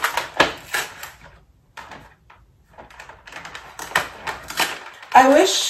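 Plastic packaging of a Cricut Essential Tool Set is ripped open in a run of sharp, close tearing and crinkling bursts separated by short pauses, with a louder rustle at the end.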